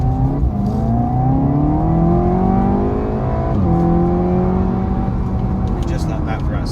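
A 2014 SEAT Leon Cupra 280 in a driving video game accelerates hard, its engine note climbing steadily through the gears with a brief dip at a shift. The engine drones loud and continuous while someone talks over it.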